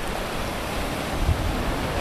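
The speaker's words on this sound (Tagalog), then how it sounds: "malakas pa rin yung tubig dito sa area na to" Strong sea waves roll in at high tide on White Beach, Boracay, a continuous close roar of surf with a faint swell toward the end.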